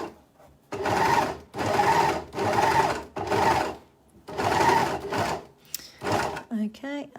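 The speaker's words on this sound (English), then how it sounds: "So I'm feeding my pocket bag into my overlocker" An overlocker sewing machine stitches a pocket bag seam in five even bursts of fast, rattling whir separated by brief pauses, close and loud, ending with a little handling and a short spoken remark.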